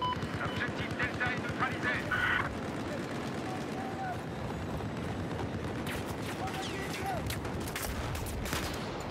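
Battlefield 4 multiplayer gunfire on a snowy mountain map, bursts of rifle shots and distant fusillade, with a dense volley early on then ongoing scattered fire and battlefield noise, fairly faint throughout.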